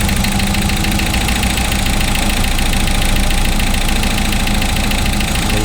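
A 1955 Austin Healey engine idling while running rich, a loud, close, steady mechanical rumble with a fast even beat and no pauses.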